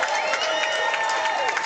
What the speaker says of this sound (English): the crowd's pumped for this one